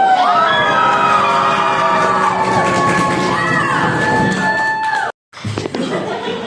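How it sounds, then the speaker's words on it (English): At a Renaissance festival, a large crowd cheers and screams with rising wavering shrieks and clapping, a loud sustained roar that cuts off abruptly near the end, with brief chatter afterward. "stomping your feet, clapping your hands, and screaming your heads off"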